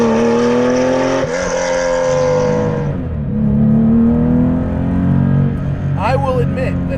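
The 431 hp, 2660 lb Guntherwerks 400R is being driven, its engine droning loudly in the cabin with rising revs, a gear change dropping the pitch, then climbing again. A voice briefly speaks near the end.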